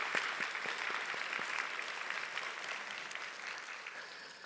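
Applause from a church congregation at a Thanksgiving Sunday service in Seattle fills the room with steady, dense clapping that holds evenly throughout and only tapers slightly at the very end, with no voices over it.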